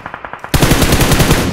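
Rapid automatic gunfire in BGMI shooting out a vehicle's tyres, a few lighter shots first, then a loud continuous burst of repeated rounds, close and dense, with no talk over it.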